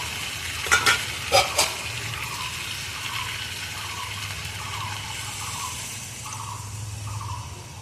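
Broth poured into a frying pan of drumstick-and-poppy-seed curry, with a couple of sharp spoon knocks and then a steady bubbling sizzle that carries on close by and without talk.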